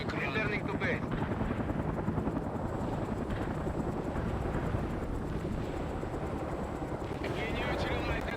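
Mi-24 helicopter from the World in Conflict game flying at full speed, a dense, loud rotor chop and turbine roar holding steady throughout with faint game sounds over it.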